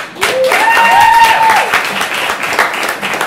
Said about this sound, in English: One huge round of applause for both of our victors.